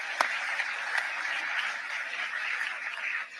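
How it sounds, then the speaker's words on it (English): Audience applause at an awards ceremony honoring a FIFA president, a steady dense clapping from a large crowd in a hall that holds for several seconds and then fades. "A big round of applause with our awardee, Gianni Infantino."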